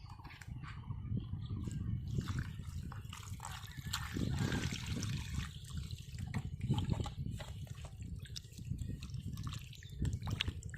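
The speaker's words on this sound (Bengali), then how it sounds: "এখন এই সিদ্ধ চাল কুমড়োর ভিতরে ঠান্ডা পানি দিয়ে দেবো" Cold water trickles and splashes onto pieces of boiled ash gourd, a soft continuous pour with small drips, fairly close and quiet.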